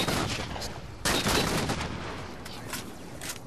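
Gunfire in a multiplayer shooter video game: a loud close burst of shots around the middle, followed by scattered quieter shots and crackling bursts, with some voice chat underneath.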